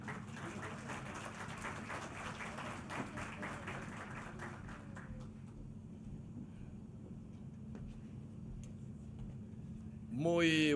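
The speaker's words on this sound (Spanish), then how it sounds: "El aplauso para él." An audience applauds a speaker at the opening conference of the 56th ALIDE General Assembly, a dense patter of clapping across the hall that thins out and fades after about five seconds, leaving a quiet room.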